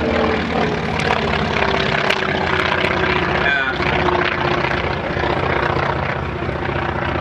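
A Grumman Wildcat warbird fighter flies past at a beach air show, its propeller engine droning loudly and steadily throughout, with a brief rise in pitch near the middle.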